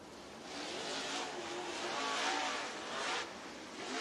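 Race car engine droning at a distance at Talladega Short Track, a steady moderate hum that swells and fades slightly as it rolls across the infield scales.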